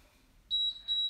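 Two sharp, high electronic beeps from a home-workout exercise timer sound one after the other, the first longer than the second, clear against a quiet background.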